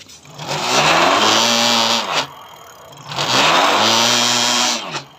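An electric bike hub motor running on throttle with a faulty hall sensor gives a rough, grinding whir in two sustained bursts, each rising and falling, close by with no talk.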